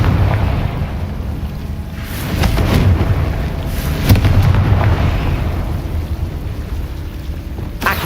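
A Confringo fire blast spell cast in Hogwarts Legacy lands as a loud, rumbling burst against a steady roaring background, with a few sharp crackling hits and a swell that fades slowly.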